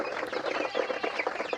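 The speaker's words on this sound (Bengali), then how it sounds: "তো আমার যে মুরগিগুলো আপনারা দেখতে পাচ্ছেন" Tiger breed chickens on a poultry farm cluck and murmur softly in a brief, close, continuous burst without any talking.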